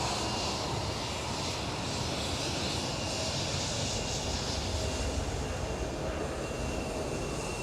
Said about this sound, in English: Another KLM Cityhopper, E175.